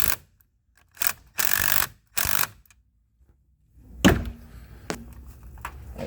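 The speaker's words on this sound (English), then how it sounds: "This is just an impact driver. You don't need to get these super tight." An impact driver with a 10 mm socket tightens a battery terminal nut on a Ford Edge or Explorer, firing in several short close bursts separated by silence, followed by softer clunks and handling noises.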